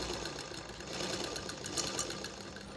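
A large sewing machine stitches steadily while its stitch fails to pull tight enough, giving a continuous, fast mechanical whirring and clattering at close range with no pauses.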